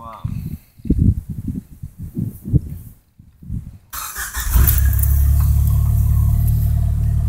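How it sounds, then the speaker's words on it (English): A Jeep engine runs at a low, steady rumble from the cabin after someone speaks briefly, holding a constant hum as the vehicle sets off. "we're back in the Jeep, and I'm just going to show you guys a drive to the destination"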